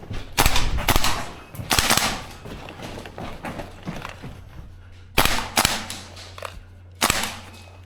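Tokyo Marui AK gas blowback airsoft rifles fire in an indoor CQB game. Sharp, loud clacking bursts come in several short volleys with brief pauses between them, close and echoing in the room.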